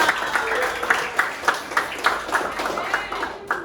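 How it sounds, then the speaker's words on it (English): Classroom applause for a student presentation in an English lesson, a group of people clapping steadily with rhythmic hand claps over a few seconds, mixed with background chatter. "Okay, give applause"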